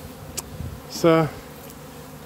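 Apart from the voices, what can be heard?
Buckfast bees buzzing around hives on truck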